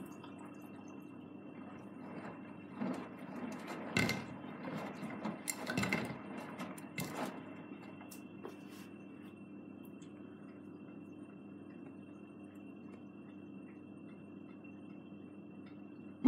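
Blomberg washing machine filling with water on a rinse cycle, a faint steady rush of inflow with a thin whine, broken by a few soft knocks and clicks early on.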